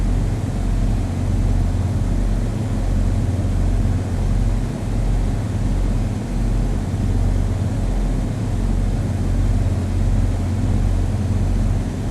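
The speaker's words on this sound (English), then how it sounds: "You can actually hear the plane kind of rattle and bounce around when you're in some turbulence." A light plane in Flight Sim World flies through turbulence. A steady, loud engine and airframe drone carries low, regular bumps and rattles throughout, with no voices.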